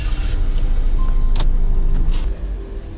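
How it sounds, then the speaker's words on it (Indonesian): Two cars pulling away together in an action film scene, a steady loud engine and road rumble that holds throughout and eases slightly toward the end. "Tak lama terlihat Bosman CS berangkat menggunakan 2 mobil."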